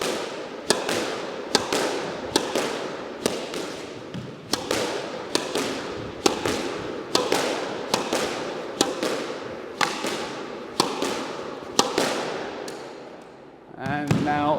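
Squash ball volleyed repeatedly with a racket, a regular series of sharp cracking hits roughly every half second to a second, close and echoing in a court, with a brief voice at the very end.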